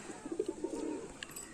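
A pigeon coos nearby in a short series of soft, low, rounded notes, moderately quiet and with no talk over it.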